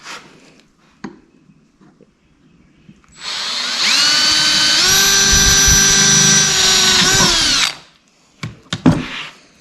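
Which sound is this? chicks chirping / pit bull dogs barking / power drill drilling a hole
power drill drilling a hole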